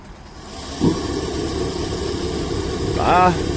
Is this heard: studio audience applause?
no